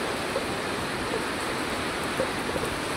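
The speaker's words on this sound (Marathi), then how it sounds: "हा बघा धबधबा." Waterfall near a Marleshwar temple in Maharashtra, a steady broadband rush of falling water filling the whole moment, constant and fairly close with no voices.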